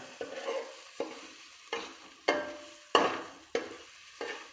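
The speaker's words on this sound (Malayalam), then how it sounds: "നന്നായി ഇളക്കുക, നന്നായി മിക്സ് ചെയ്യുക" Chicken frying in a pan is stirred with regular scraping strokes, about seven distinct scrapes at a steady pace over a soft sizzle, close and fairly quiet.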